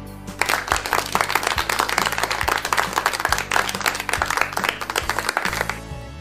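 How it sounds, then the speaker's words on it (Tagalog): Children clap their hands during a radio school lesson in Isabela, a dense, sustained burst of applause with rapid overlapping claps that fills the room steadily for several seconds. "Pumalakpak nga kung handa na?"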